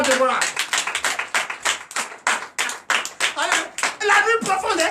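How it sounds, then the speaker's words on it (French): A burst of lively hand clapping, rapid and uneven, from a small group at a Sunday church service in Benin, with a voice calling out near the end. "Donnez l'acclamation"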